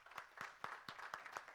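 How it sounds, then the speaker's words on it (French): A church congregation claps in praise, with slow, evenly spaced sharp claps about every quarter second, quiet and somewhat distant, no talk over it. "On applaudit le Seigneur pour eux."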